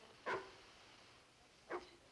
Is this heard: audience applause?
no